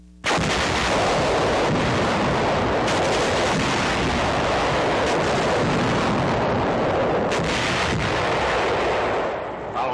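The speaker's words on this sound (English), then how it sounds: "A field artillery battery brings forward an 8-inch gun on 11th September to fire point blank at the massive walls surrounding the fortress where Nazi paratroop General Hermann Bernhar" A field artillery battery's 8-inch gun fires point blank at fortress walls in 1944 France, heavy booming blasts and rumbling concussions filling the whole stretch, loud and continuous, with several sharp onsets.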